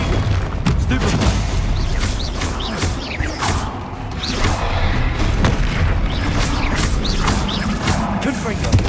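Confringo blasting spells from Hogwarts Legacy go off in rapid repeated booms and cracks amid combat clatter, with a voice heard over the explosions.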